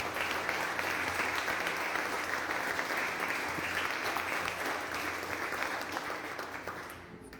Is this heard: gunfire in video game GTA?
no